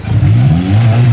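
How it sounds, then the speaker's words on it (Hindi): The Habshi Black car's engine revs loudly and close after a tappet adjustment, a deep rising growl that climbs in pitch and holds steady, with no talk. "हबशी ब्लैक के टैपेट हमने एडजस्ट करवा लिए हैं और इंजन की आवाज़ें पहले की निस्बत काफ़ी कम हो गई हैं"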